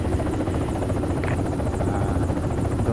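Helicopter in the Project Reality video game, a loud close continuous rotor thump and engine roar with a steady buzzing whine, filling the clip without speech.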